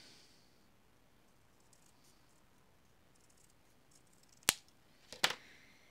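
Scissors snipping through paper while making paper keys, two short crisp cuts close up near the end after a quiet stretch.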